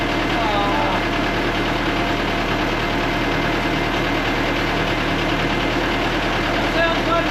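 A Case 1845 skid steer running at a steady idle after a thermostat change, a constant low engine throb with vibration that holds evenly throughout. Voices are faintly audible over the engine.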